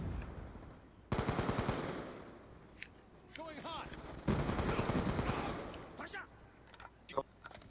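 Light machine gun fire in Black Ops 2 comes in two long, dense bursts of rapid automatic shots, fairly loud and close, with scattered single shots and game effects between them and speech in the background.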